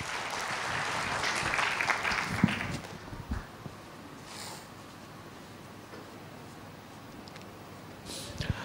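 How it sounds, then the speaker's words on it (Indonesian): Church congregation at a morning prayer service claps together for about three seconds, a dense mid-distance patter that fades out, followed by a quiet room with a few faint knocks and shuffles. "Tepuk tangan buat Yesus."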